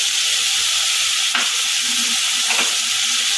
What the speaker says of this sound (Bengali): মশলাটাকে ভালো করে কষাবো